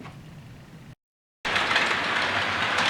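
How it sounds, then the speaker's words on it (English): Model trains run on a layout controlled by an ECOS digital command station, giving a steady rolling rumble with a faint clicking rhythm. The sound breaks off briefly into silence, then returns louder and continues evenly to the end. "I've connected the ECOS back up, and we can actually run some trains at last."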